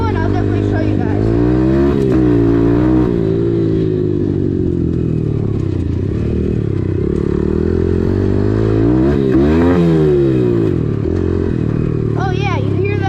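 Motocross bike engine revving up and down with a gear shift that fails to engage, a loud, close, buzzing two-wheeler roar rising and falling throughout.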